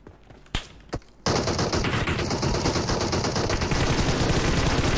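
Two isolated gunshots crack in the PUBG Mobile battle royale game, then a continuous loud burst of automatic fire erupts and hammers on without pause, close and dominant.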